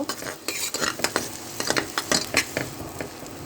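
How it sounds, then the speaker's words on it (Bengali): Onion frying in mustard oil for bhuna khichuri, with a spoon clinking and scraping against the pan in irregular bursts over a low sizzle. No voices are heard. "আমি পেঁয়াজটা একদম লাল করে ভেজে নিব।"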